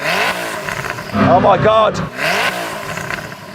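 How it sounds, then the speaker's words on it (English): A Koenigsegg hypercar's engine is revved hard in one surging burst that climbs and falls back. It is loud and close, and people exclaim over it. "I'm going to start it by revving up this Koenigsegg"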